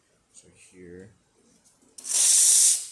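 A Rocket Giotto espresso machine's steam wand, just serviced, lets out a loud, steady rush of steam that starts abruptly and holds for about a second, following a few spoken words.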